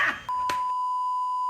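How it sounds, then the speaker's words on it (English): An oven alarm sounds a single long, steady electronic beep lasting over a second, loud and close, after a short burst of clatter at the start. "y'all don't know how much I hate the alarms on this oven"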